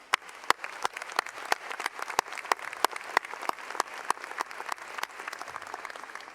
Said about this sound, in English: So a round of applause for everybody that came in.